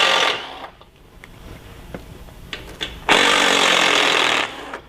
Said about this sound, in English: I'm using a T25 to remove these screws.